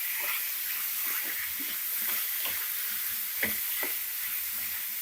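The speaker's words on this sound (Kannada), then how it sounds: "ಈಗ ಕಟ್ ಮಾಡಿರೋ ಟೊಮೆಟೊ ಹಾಕ್ತಾ ಇದ್ದೀನಿ." Chopped tomato tipped into onions frying in a pan for onion tomato chutney, a steady soft sizzle with scattered scraping and stirring clicks, close and fairly quiet.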